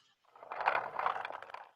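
Chair rolling across a floor, heavily pitched down for an EDM track, comes through as a single rumbling scrape that swells in and fades out over nearly two seconds, fairly faint and alone.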